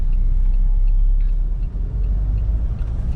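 A Mahindra Scorpio engine rumbles loudly and steadily as the SUV climbs uphill, a deep low drone close up inside the cabin with a brief dip midway and no talking.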